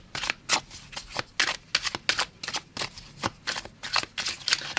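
A deck of tarot cards is shuffled by hand in a quick series of crisp riffling bursts, close and fairly quiet, with no talking over it.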